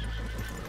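A horse in the Red Dead Redemption 2 video game gives a short, close whinny, heard alone.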